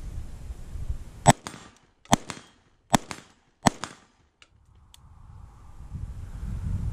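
An LMT short-barreled rifle fires four sharp, loud shots about a second apart, each with a brief echo, followed by wind noise outdoors.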